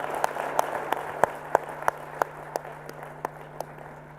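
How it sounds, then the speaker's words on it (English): Applause for panelists at an event comes as a string of distinct, evenly spaced claps, about three per second, over a low steady hum, with no speech. "Let's have some applause for their contributions."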